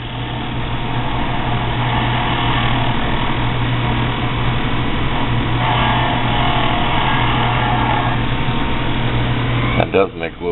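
A homemade mini grinder motor running, a steady low hum with a constant tonal whine throughout, ending in a few brief clunks.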